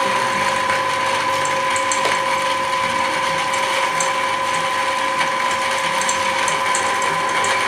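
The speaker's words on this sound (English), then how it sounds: "So whatever way you can grind your corn." Grinder milling corn for a bourbon mash, a continuous loud mechanical clatter of gears with a steady hum, close and unbroken.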